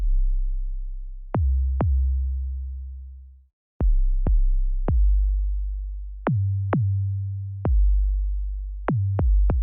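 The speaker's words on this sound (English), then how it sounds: "It's basically a tuned 808 from Logic." Heavy Kick, a tuned 808 from Logic's Drum Synth, plays a sequence of deep booming hits with clicky attacks and long sustained low tails shifting in pitch, loud and alone.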